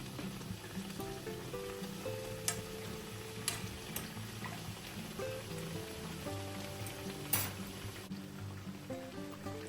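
Petulla fritters frying in hot oil, a soft steady sizzle and patter of bubbling, faint under a bed of quiet background music with a few sharp clicks.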